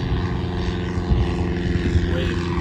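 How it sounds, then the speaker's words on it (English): A propeller airplane flies low over the water near a fishing boat, a steady droning engine hum that holds close and loud throughout, with no clear talk. "Jack, jump on that plane."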